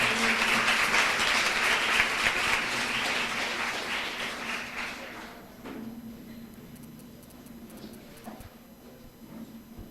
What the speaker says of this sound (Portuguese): uma salva de palmas aí para a galera.